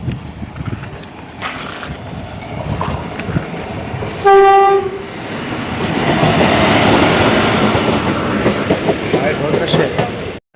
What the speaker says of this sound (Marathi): ट्रेन आलेली आहे आपली आता यातून आपण जाणार आहोत बोईसरला